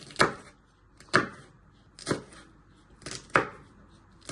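Knife chopping peppers on a cutting board for Mexican picadillo, four distinct crisp thuds spaced about a second apart, close and fairly loud with quiet gaps between.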